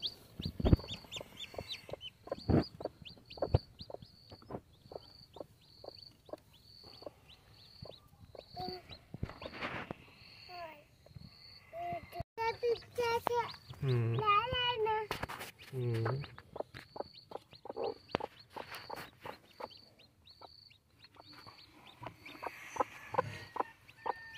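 A hen clucks among her chicks in a rural Indian household yard, with repeated close clucks and thin high peeping from the chicks throughout, while someone talks over them.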